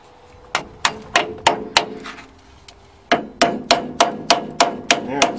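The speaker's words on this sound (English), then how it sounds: "now I'll have to chisel at that, see if I can get it out" Chisel driven by hammer blows against an old rear axle bearing on a Case backhoe: sharp metallic strikes in two quick runs of about six and nine evenly spaced hits, loud and close, each ringing briefly.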